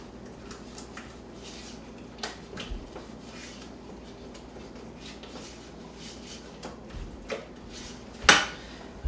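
A metal spoon stirs ingredients in a cooking pot, soft scraping and occasional light clinks against the sides, with one sharper knock near the end, quiet and close with no talk.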